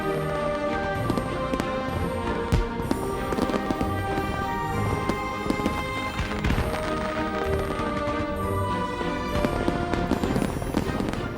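Colourful fireworks rockets burst in the night sky in a dense, continuous barrage of crackling pops and booming explosions, loud and sustained throughout with no pauses.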